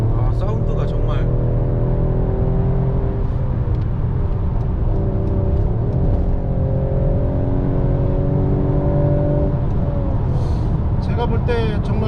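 A sports car accelerating in sport mode gives a sustained, close engine drone that rises in pitch across several long pulls, loud and unbroken throughout.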